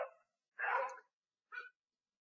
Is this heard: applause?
no